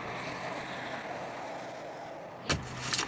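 A car drives along a road, a steady interior rumble of tires and wind, with a couple of brief bumps or clicks near the end and no voices.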